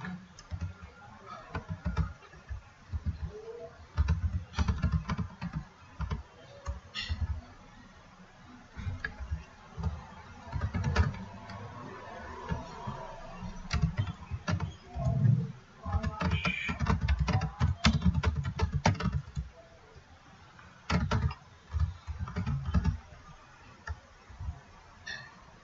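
Keys clatter in quick, irregular bursts as code is typed on a computer keyboard, fairly close, with short pauses between runs and a low background rumble.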